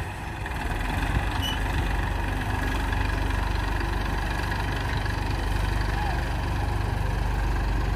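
A Massey Ferguson 241 tractor stuck in a village field runs with a steady, loud, throbbing diesel rumble that holds constant throughout.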